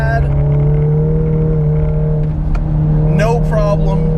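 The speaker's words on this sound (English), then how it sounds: "Completely obliterating the tires with third gear" A 400 HP RevoTechnik Stage 3 VW Mk7 GTI with front-wheel drive accelerates hard in third gear on a track, giving a loud, steady engine drone from inside the car, with brief tire chirps near the end.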